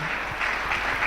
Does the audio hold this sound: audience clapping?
yes